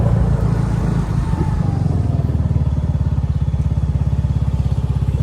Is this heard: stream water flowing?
no